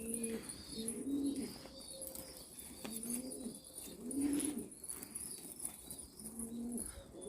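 Pigeons coo in a loft, several soft, repeated low coos in rhythmic phrases at close range, with light wing flutters and faint chirps in the background.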